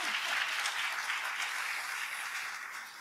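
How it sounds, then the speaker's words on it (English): Audience applause at an international dialogue on migration, a full, sustained wash of clapping from a sizable crowd that stays strong before easing slightly at the end. "A round of applause, please."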